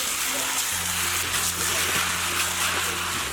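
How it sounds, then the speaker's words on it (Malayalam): Masala-marinated chicken goes into a pan of sautéed onions for a chicken curry, a steady loud sizzle and fry with scraping stir strokes running throughout, close and continuous. "ഇനി മസാല ചേർത്ത് വെച്ചിരിക്കുന്ന ചിക്കൻ്റെ കൂട്ട് ഇതിലേക്ക് ഇട്ടിട്ട് നല്ലതുപോലെ ഒന്ന് ഇളക്കി കൊടുക്കാം."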